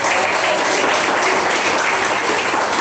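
A church congregation claps together in sustained, dense applause, a steady loud wash of many hands with no pauses.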